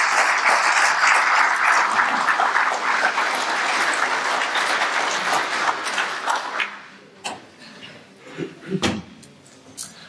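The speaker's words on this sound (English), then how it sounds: "So big round of applause for Ian." A conference audience applauds a speaker named Ian. The dense clapping runs for about seven seconds, then thins to a few scattered claps and shuffling noises.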